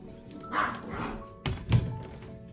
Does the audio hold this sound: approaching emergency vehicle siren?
no